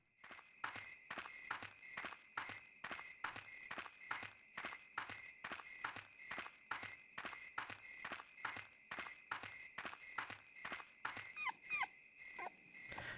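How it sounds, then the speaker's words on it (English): A dog barking in the horror game Rule of Rose, heard as a regular series of about two dozen evenly spaced sounds that repeat steadily with a ringing, alarm-like tone over the course of the passage, with no voices. "she heard a dog's bark"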